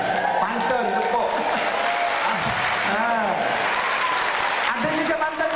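An audience at a live radio contest show in Labuan claps and cheers in a sustained, loud wash of applause while a presenter keeps talking over it.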